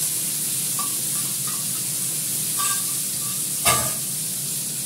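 Potato and onion, with coriander leaves mixed in, sizzle steadily in oil in a frying pan, with a stir or scrape around the middle and a louder clatter near the end, with no talking.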